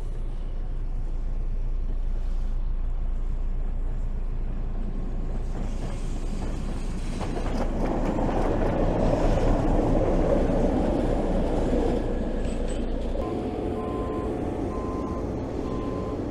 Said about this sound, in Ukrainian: Тут щось возить величезний фронтальний навантажувач